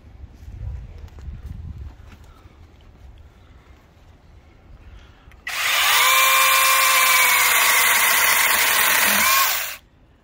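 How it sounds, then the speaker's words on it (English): A cordless battery electric chainsaw cuts through a thick tree branch, a loud steady high-pitched whine lasting about four seconds before stopping abruptly, following quieter background noise. "we're gonna cut a piece of branch here so you can see how powerful it is"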